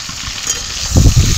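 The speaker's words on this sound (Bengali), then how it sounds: "বেগুনগুলো একটু ভেজে নেব।" Eggplant frying in hot oil, a loud steady sizzle with a burst of stirring or shifting pieces in the pan toward the end.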